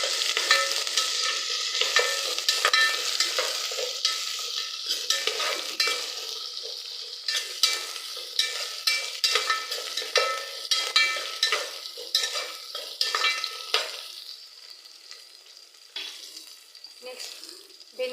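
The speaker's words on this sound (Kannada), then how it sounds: "ಹಸಿಮೆಣಸಿನ್ಕಾಯಿನ ಸ್ವಲ್ಪ ಫ್ರೈ ಮಾಡಬೇಕು" Green chillies fry in a pan with a steady sizzle, while a spatula scrapes and stirs in frequent close strokes throughout.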